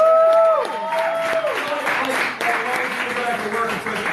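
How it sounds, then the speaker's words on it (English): Audience applause at an improv comedy graduation show in a small theater, clapping and crowd noise under someone speaking loudly over it. "Give them a round of applause."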